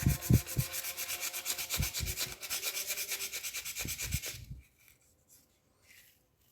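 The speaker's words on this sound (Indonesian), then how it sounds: "Baru kita amplas lagi supaya halus ya" Sandpaper rubbing over a homemade sprayer part, the body of an electric sprayer powered by a 12V drill battery, in quick repeated scraping strokes, close and steady for about four seconds before falling silent.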